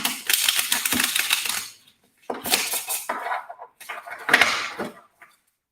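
Playing cards are shuffled in three quick, crisp riffling bursts separated by short pauses, close by and with no talking.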